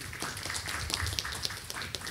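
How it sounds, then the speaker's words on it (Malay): An audience at a Sufi book discussion event claps steadily for a guest speaker, a dense, even patter of many hands with no talk over it. "Tepuk tangan untuk beliau."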